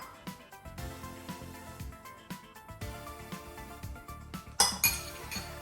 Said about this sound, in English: take a spoon of that and just pop it onto the plate